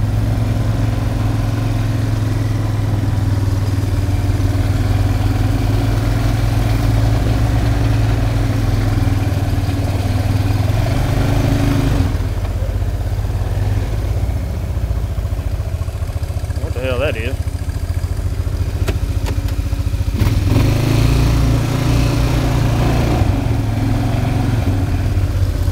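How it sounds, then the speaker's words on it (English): An old oil well pump engine runs steadily outdoors, a loud, low, continuous mechanical drone with a rhythmic churn, while someone talks briefly over it. "Old oil well. Yep, pumping along."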